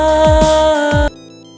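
A mobile phone ringtone plays a loud, bright electronic melody of a few tones with swooping accents, then cuts off abruptly after about a second, leaving a faint tonal hum.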